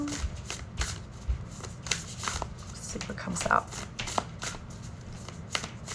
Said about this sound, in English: These are big cards. They're hard for me to shuffle